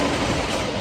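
Roller coaster trains at Kings Island amusement park give a continuous, loud rumbling roar with faint rhythmic rattling of wheels on track, heard up close throughout.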